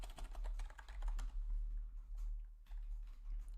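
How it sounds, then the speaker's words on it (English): Rapid clicking keystrokes as a command is typed on a computer keyboard, a short close burst that thins out toward the end, with no talking. "So we also want to type the command purge."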